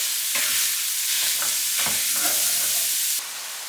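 Sausage browning in a hot pan sizzles loudly and steadily, with a few scraping stirs breaking through before the hiss drops slightly at the end.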